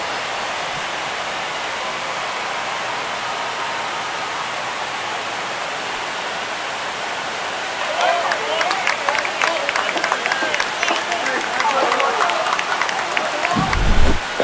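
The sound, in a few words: stadium crowd cheering a home run in video game MLB The Show 25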